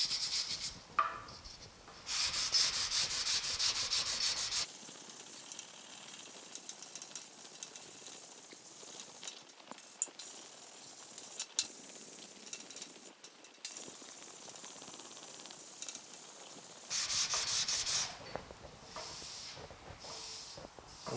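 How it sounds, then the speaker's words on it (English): Hand sanding of body filler on a 1950 Chevy truck's splash guard produces rhythmic rasping strokes in bursts at the start and near the end, separated by a quieter stretch of faint handling noises. "I'm going to continue to sand this real quick and see how it turns out"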